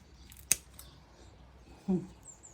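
Garden scissors snip through plant shoots in a quiet outdoor spot, one sharp close click followed a moment later by a second, duller cut.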